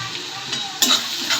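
Sliced onion with half a spoon of turmeric sizzles in hot oil over low heat, with a steady frying hiss and a couple of brief scraping stirs of a spoon against the pan.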